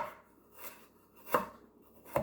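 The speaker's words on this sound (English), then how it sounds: "you're going to cut these strips into your julienne strips" Knife cutting vegetables into julienne strips on a board, a few soft isolated chops with two sharper knocks at the end, close and quiet with no voices.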